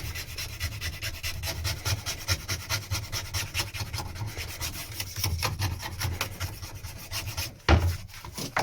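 A blade scrapes stubborn residue off a surface, giving a steady, close rasping rub that repeats in quick strokes, with one sharper knock near the end and no talk.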